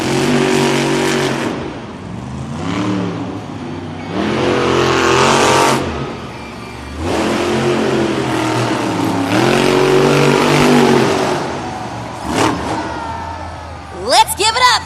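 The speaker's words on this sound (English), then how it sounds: "our drivers need to fire their engines and head to the starting line" Monster truck engines fire up and rev at the start of a stadium racing event, with loud surging roars rising and falling in several bursts and a sharp squeal near the end.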